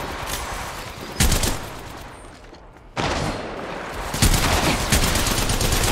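In the mobile shooter Apex Legends Mobile, loud rapid bursts of automatic gunfire are interrupted by a short pause, then resume in dense, close, sustained volleys.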